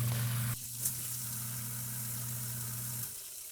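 A newly installed sump pump kicks on when its float is lifted, running with a steady, close electric hum and watery hiss for about two and a half seconds before shutting off.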